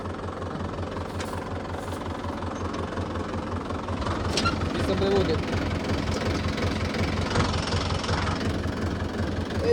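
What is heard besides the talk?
tractor engine running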